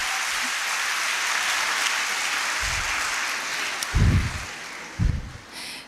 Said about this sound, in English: Come on, girls, clap.